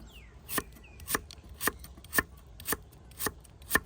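A knife slices vegetables for pickled side dishes, with about seven crisp, evenly spaced strokes on a board, quiet and steady.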